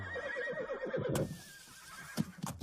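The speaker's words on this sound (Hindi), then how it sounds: "आप इस तरह घोड़ा घुमा क्यों रहे?" A horse whinnies loudly in a wavering neigh during a horse-riding scene in a Hindi action film, followed by a few sharp hoof clops close by.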